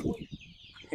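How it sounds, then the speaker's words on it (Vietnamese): Chickens clucking in a poor African village, soft clucks and short calls at close to middle distance, mixed with faint voices and outdoor background. "Wow, gà rất là nhiều luôn nha."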